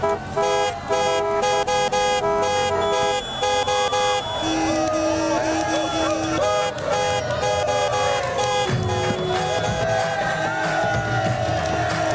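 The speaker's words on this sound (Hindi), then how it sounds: "हॉर्न बजाओ, नहीं तो ये भीड़ नहीं हटने वाली।" A car horn toots repeatedly in short bursts at a crowd blocking the road, loud and close over crowd noise and music, with people talking.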